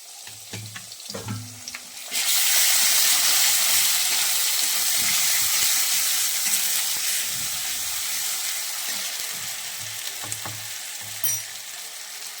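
Ginger garlic paste hitting hot oil in a pan with potatoes, a loud, steady close sizzle that bursts in after a couple of soft stirring knocks and holds, with occasional scraping.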